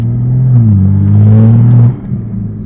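A car fitted with a T51R turbo revs hard under acceleration, a loud close engine drone rising in pitch with a steady high turbo whine above it, then easing off sharply near the end.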